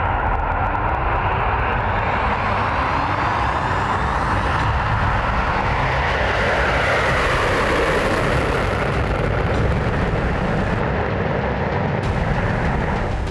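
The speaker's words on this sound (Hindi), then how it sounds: "रूस का Tu-160 धरती का सबसे तेज रफ्तार से उड़ने वाला बॉम्बर है।" Steady, loud roar of a Russian Tu-160 bomber in flight, a broad continuous rumble that holds for the whole stretch without pause or speech.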